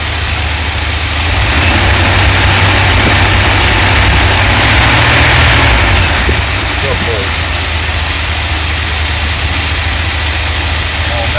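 An RV engine idles smoothly after carburetor work, a steady low rumble running throughout with a faint high whine above it, and a voice speaking over it partway through.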